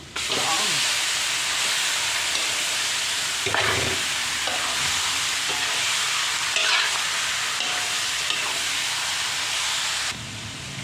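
Pork belly sizzles steadily in a hot frying pan, a loud continuous hiss with occasional stirring scrapes and brief pops throughout, easing slightly at the end.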